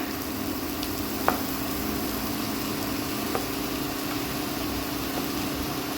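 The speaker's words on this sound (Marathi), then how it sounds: "आता आपण ही बारीक चिरलेला मुळा आहे तो ॲड करूया" Chopped radish goes into onions frying in a pan on the stove for a Marathi radish bhaji, giving a steady close sizzle with a couple of faint utensil clicks and no talking.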